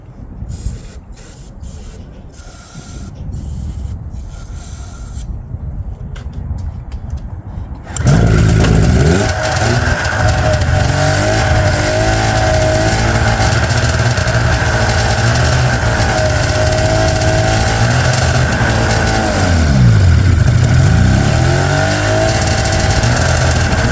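A 1997 Ski-Doo MXZ 670 snowmobile with old gas in the tank starts after a few cranking attempts, then runs loud and close with a steady two-stroke drone and a couple of revs rising and falling.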